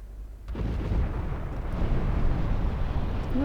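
Torpedo explosions in Ultimate Admiral Dreadnoughts, a sudden onset of a heavy, sustained low rumbling roar that builds and holds steady without any speech.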